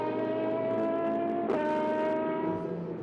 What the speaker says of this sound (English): We've got an engine that sounds like that.